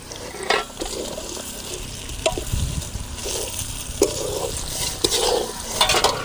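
Ragi upma ingredients, including onion, are stirred in an oiled pan with repeated close scraping strokes over a soft, steady sizzle.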